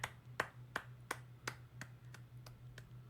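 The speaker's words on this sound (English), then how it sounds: "Who's clapping?" Several sharp hand claps from a single person, spaced irregularly about every third of a second and fading slightly, heard alone over a low steady hum in a radio studio.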